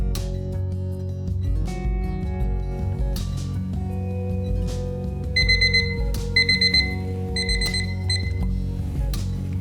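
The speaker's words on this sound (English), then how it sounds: "Our 30-minute timer just went off" A 30-minute kitchen timer alarm rings while cookies chill in the fridge, its repeated electronic beeps sounding in short bursts over a steady background tone.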